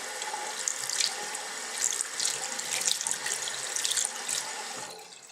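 Water runs from a tap into a sink while a makeup brush is wetted, a steady close splashing stream with small surges, cutting off near the end.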